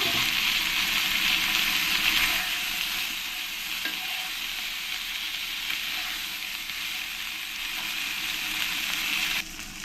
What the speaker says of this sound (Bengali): কচুর মুখিগুলো দিয়ে আমি ভালো করে একটু ভেজে নেব